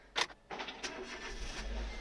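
A Renault Mégane 2 with keyless access, being bought in the Netherlands, is started: a short mechanical click, then the engine cranks and catches into a low, steady idle nearby, with no talking.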